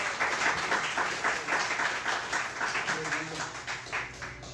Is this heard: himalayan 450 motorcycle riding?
no